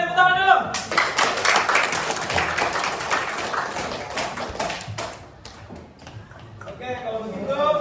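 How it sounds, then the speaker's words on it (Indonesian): Applause from a classroom audience, a dense burst of many hands clapping for several seconds that thins out toward the end, with voices at the start and close. "Oke, tepuk tangan dulu."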